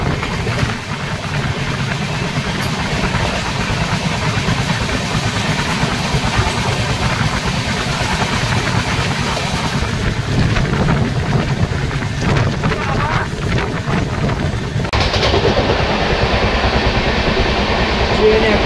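Bhubaneswar-Howrah Jan Shatabdi Express running at speed past Bhubaneswar New station: a loud, continuous rushing roar with rattling wheels and a sharp shift in the noise near the end.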